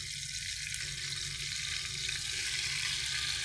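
A steady bubbling simmer from a pot of toor dal (pigeon pea lentil) broth, constant and close, with a dense hiss running through the whole stretch and no voices.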